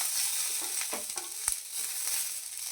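Green chilies, garlic cloves, ginger and coriander roasting in a hot pan give a steady bright sizzle, broken by a few soft stirring scrapes.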